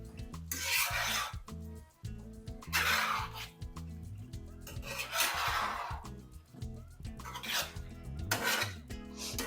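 Sausage masala being mixed in a pan with a spoon, repeated scraping and rubbing strokes in uneven bursts, fairly close, with no talking.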